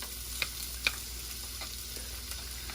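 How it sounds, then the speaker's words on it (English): Onions sautéing in olive oil in a skillet give a steady, even sizzle, with two sharp clicks early on as utensils knock against the pan. "I'm going to get some olive oil in our skillet here, and I'll get our onions starting to saute off"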